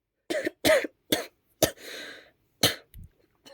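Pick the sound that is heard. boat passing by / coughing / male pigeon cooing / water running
coughing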